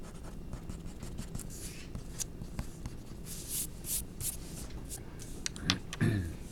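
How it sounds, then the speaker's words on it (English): A pencil eraser is scrubbed over a graphite drawing of bumblebees on paper, making soft, close rubbing and scratching strokes that end in a few louder scuffs. "Use an eraser just like the end of the pencil there."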